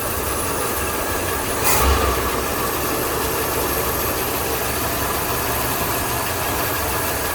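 A 1981 Pontiac 305 V8 idles steadily at about 780 RPM with its carburetor mixture screws set, a dense continuous rumble that stays level and close throughout, with one brief brighter burst near the start.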